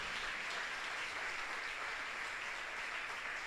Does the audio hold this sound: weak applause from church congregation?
yes